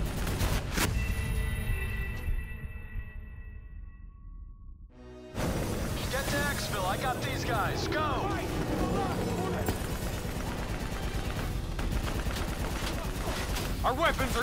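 Gunfire aimed at a VTOL aircraft in a Call of Duty: Black Ops III firefight, steady rattling bursts of automatic fire that go quiet for a few seconds and then return at full intensity while voices shout over the shooting.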